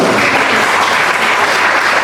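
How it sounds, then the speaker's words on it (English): A crowd at a fashion show applauds steadily, a dense wash of clapping hands filling the short stretch at full strength without letting up. "Let's give a round of applause for Marissa."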